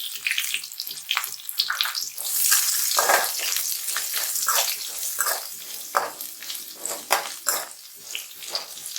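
Green chilies, curry leaves and onion sizzle and crackle in hot oil for a spicy tomato thokku, a dense, steady frying hiss broken by sharp popping spatters throughout, close and fairly loud with no talk.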